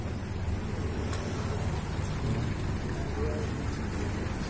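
Steady rain falls on a road in Aceh Besar, a constant dense hiss close by with no break throughout.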